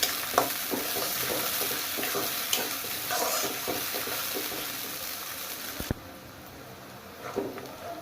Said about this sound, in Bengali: পেঁয়াজটা আমরা একটু নেড়ে চেড়ে ব্রাউন কালার করে নিব।